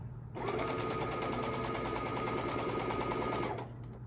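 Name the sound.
sewing machine stitching quilt binding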